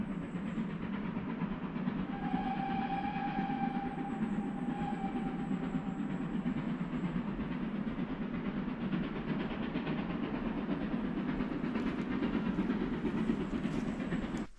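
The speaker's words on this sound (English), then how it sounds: "in the distance you can hear the train going again." Distant train passing near a countryside walking route in Yorkshire, a continuous low rumble with faint rail clatter and a soft high whine, steady and far off for the whole stretch with no talking.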